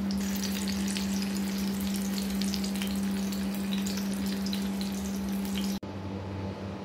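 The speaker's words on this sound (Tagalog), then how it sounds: "ipa-pan fry na po natin siya." Chicken embutido pan-frying in hot oil, a loud, steady close sizzle with faint crackles that continues throughout, dropping slightly near the end, with no speech.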